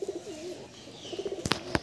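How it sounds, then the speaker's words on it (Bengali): A male Kalshira pigeon, a border-line breed, coos in soft repeated rolling phrases close by, with a couple of brief sharp clicks or wing flutters near the end. "এই পায়রা হচ্ছে ওই বর্ডার লাইনের পায়রা, কালশিরা পায়রা।"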